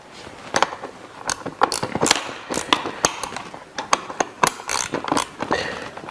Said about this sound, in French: on va redesserrer un petit peu les écrous, un tout petit peu